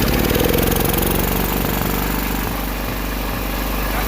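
A Case XC210 lawn mower engine, long left sitting, runs steadily at full throttle with a loud, close, continuous mechanical drone and rapid pulsing rhythm, no voices.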